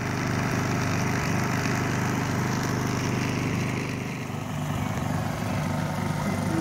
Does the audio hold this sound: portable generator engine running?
yes